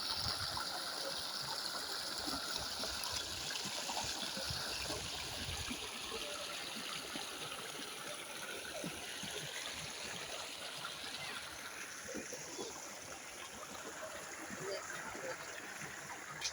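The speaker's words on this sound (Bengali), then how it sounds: "পানি দেখেন পানি নামতে আসছে" Floodwater runs and drains away with a steady, broad rushing wash that continues throughout, while faint, muffled voices sit under the flow.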